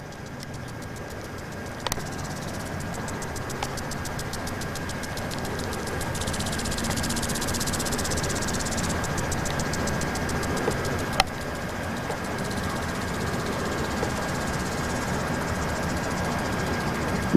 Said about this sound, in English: There's the first set of spins, rotary unit,